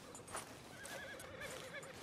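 A horse whinnies in Red Dead Redemption 2, a close, wavering neigh that repeats in short bursts over a couple of seconds, with faint hoof sounds beneath.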